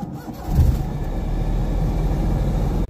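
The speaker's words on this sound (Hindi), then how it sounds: "इस गाड़ी का स्टार्टअप" A 2019 Suzuki Mehran VXR with an 800cc engine cranks briefly and catches, settling into a steady, close rumbling idle that continues to the end.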